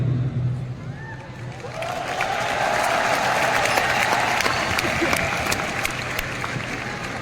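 Sustained audience applause at a product launch event, dense and loud crowd clapping that swells and holds steady, with a murmur of voices blended in.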